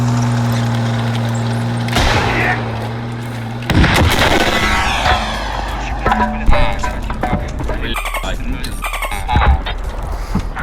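Several sharp video game gunshot blasts ring out over a steady engine-like hum, followed by scattered quieter bangs and clatter; no one speaks.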